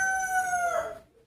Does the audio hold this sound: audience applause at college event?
no